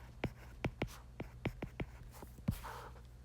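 Marker pen writing on a lecture slide: a series of short, distinct strokes and taps, about eight in quick irregular rhythm, close and fairly quiet over a low steady hum.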